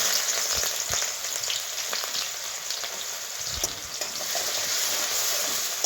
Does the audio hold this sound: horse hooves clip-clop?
no